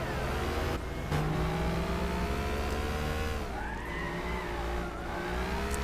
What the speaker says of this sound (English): This car loves to burn rubber, I tell you.